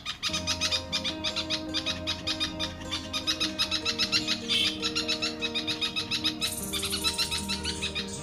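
Young red-vented bulbuls call noisily and repeatedly in a fast, insistent chorus of shrill chirps, close by and loud, continuing without pause.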